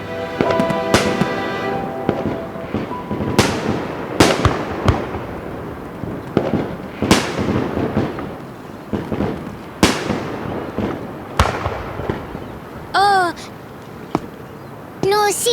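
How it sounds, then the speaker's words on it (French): Fireworks burst one after another in sharp, booming cracks with crackling tails, some near and loud, while voices call out between explosions. "Des feux d'artifice!"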